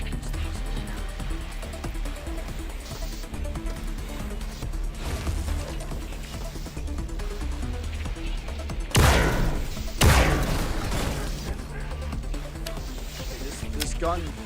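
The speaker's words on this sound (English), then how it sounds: "This gun fucking bangs" A gun firing in a first-person video game, two sharp, loud bangs about a second apart standing out over a busy, layered game soundscape.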